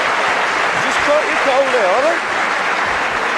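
A boxing crowd at a fight in France applauds steadily throughout, a dense even wash of clapping with a voice speaking over it.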